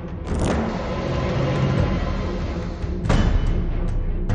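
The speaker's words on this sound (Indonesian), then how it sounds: "sebuah mobil sedan tiba-tiba melintas dengan kencang" A sedan speeds past through a parking area, a loud steady engine roar and tyre rush filling the whole stretch, swelling slightly toward the end.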